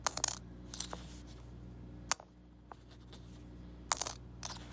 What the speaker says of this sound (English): And here's the sound a silver quarter makes when it's dropped on a clad quarter.